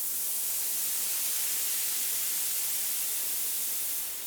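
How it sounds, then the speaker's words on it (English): A steady, loud wash of white noise from a 3 Osc synth in FL Studio, bright and hissy, holding level for about four seconds before easing off slightly at the end, with no other sounds. "I just have a noise sweep using 3 oscillator"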